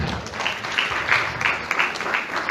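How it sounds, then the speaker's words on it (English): A church congregation claps together, a dense wash of many hands that runs steadily and fairly loud, swelling in small bursts, with no talking over it. "Give God a hand clap."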